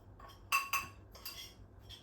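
A spoon stirs oats and whey protein powder in a bowl, giving a few light clinks and scrapes, two sharper taps close together followed by softer stirring, close and fairly quiet.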